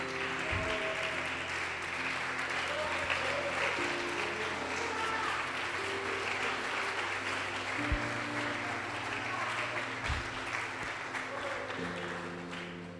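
Church congregation clapping in praise during a sermon, a dense continuous wash of applause with sustained tones from instruments or voices underneath, steady and full throughout.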